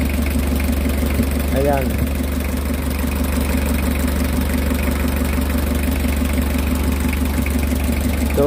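A cold car engine idles steadily while it waits to warm up, a continuous low rumble with a faint knocking vibration throughout, and someone speaks briefly over it.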